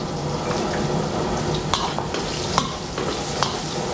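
Garlic sautéing in a pan for a catering meal, with a steady close sizzle, soft stirring scrapes and a few sharp utensil clinks against the pan.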